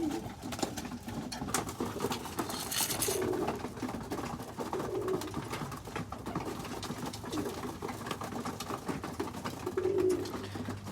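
Pigeons coo softly in low, repeated calls amid a busy background of fluttering and rustling, moderately near.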